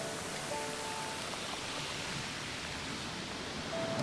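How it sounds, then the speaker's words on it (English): Waves breaking on a shore near a rock stack, heard as a steady, loud broadband wash of surf that fills the whole stretch with no clear individual crashes and no talk. "Whoa, nice waves."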